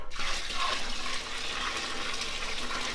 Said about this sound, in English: I'm going to take the boiling brine that we created, and I'm going to pour